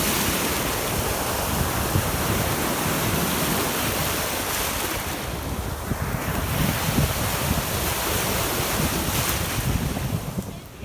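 Waves wash steadily onto the shore of an inland sea known as America's Third Coast, a continuous loud roar of surf mixed with gusting wind buffeting the microphone.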